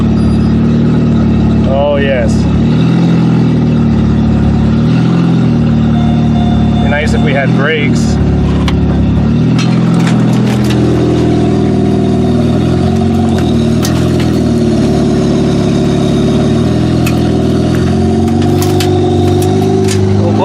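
A car engine runs steadily after its fuel pump is switched on, a low droning hum with a few small rev swells, close and loud under frequent talk from people nearby.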